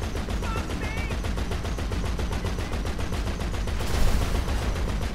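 A rapid, relentless burst of heavy automatic fire comes from a half-track's mounted gun in GTA 5 Online, loud and evenly spaced, with a brief voice cutting in near the start and a louder blast toward the end.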